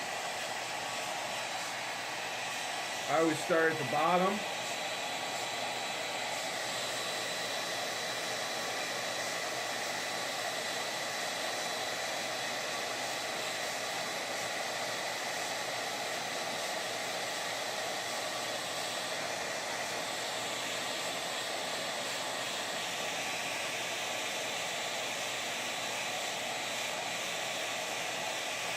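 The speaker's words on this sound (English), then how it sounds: "Take your hairdryer, turn it on high." A hair dryer runs at high speed, a steady loud whooshing roar throughout; someone speaks briefly near the start.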